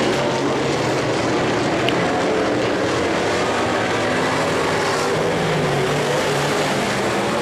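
Modified race cars roar around an oval track in a heat race, a dense, steady engine drone that stays loud and unbroken with no pauses or voices.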